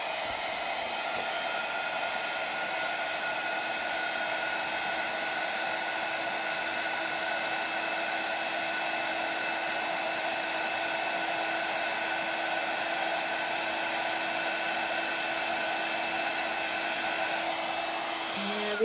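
A heat tool blows steadily while melting embossing glitter for a poinsettia card, a loud, continuous whirring hum with a fixed pitch that runs unbroken from start to finish, with no talking.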